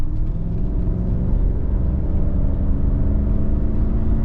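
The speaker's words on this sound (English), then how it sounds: "Good acceleration and throttle response in this car." A white 1995 Cadillac Seville SLS sedan with an automatic transmission accelerates, giving a steady, loud engine rumble and whir that holds evenly throughout with no talking.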